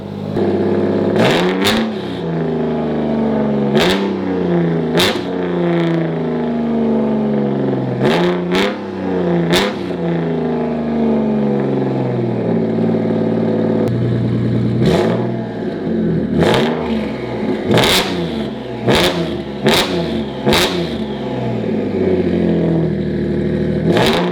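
An H6-swapped Subaru WRX STI engine runs loud and close, repeatedly blipped and revved with rising and falling tones and sharp clattering pops between revs, with no one talking.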